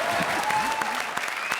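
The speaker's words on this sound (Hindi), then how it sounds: "ठोको ताली इसके लिए," Studio audience at a comedy show breaking into applause, a steady wash of clapping with scattered sharper claps, fairly close and sustained across the moment.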